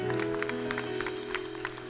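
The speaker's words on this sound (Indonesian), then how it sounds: "Lebih meriah lagi kita berikan tepuk tangan buat Tuhan kita." A church congregation applauds during a worship service, with steady, dense clapping running throughout over a sustained musical drone.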